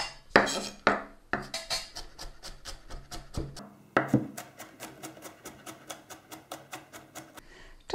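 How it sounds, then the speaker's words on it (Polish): A knife chops garlic on a cutting board with a run of sharp, evenly spaced knocks, first in irregular bursts, then a steady fast rhythm, close and clear with no talk. "Czosnek kroimy w plasterki, a za moment go posiekamy."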